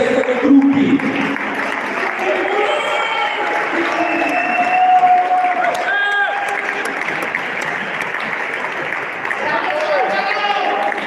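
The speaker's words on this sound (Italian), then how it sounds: "un grande applauso all'STS e al suo dirigente Stefano Gruppi" Audience applause at an award ceremony: steady, dense clapping from a crowd fills the whole stretch, loud and continuous, with a voice talking over it at times.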